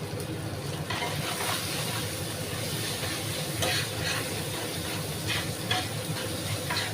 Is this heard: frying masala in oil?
yes